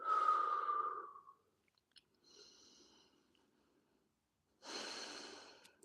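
Slow, audible breaths during a held stretch in a fitness session: a long exhale, a quieter pause, then another breath, close and soft with no talk.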